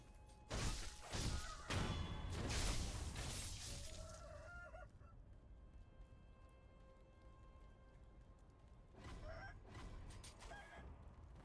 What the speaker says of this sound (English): Oh! I forgot there's roosters here.